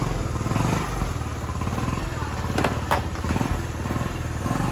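A motorcycle engine fires up on a single press of the electric starter after its CDI unit has been rewired, then settles into a steady, close, rumbling idle with some clattery mechanical knocks.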